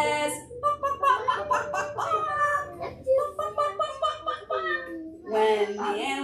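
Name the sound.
children imitating a chicken clucking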